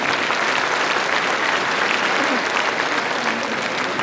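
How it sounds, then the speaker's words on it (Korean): Audience applause for the mayor at a 2024 citizens' town-hall meeting in Nonsan, a dense, steady wash of many hands clapping that fills the whole stretch at even loudness. "시장님께 박수 부탁드리겠습니다."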